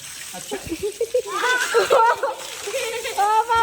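Water splashes and sprays steadily while several people talk excitedly over it nearby.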